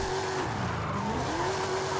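A 2010 Ford Crown Victoria Police Interceptor drifts in a racing game. Its engine holds a continuous, loud, wavering drone with a slight pitch sag and rise as it slides.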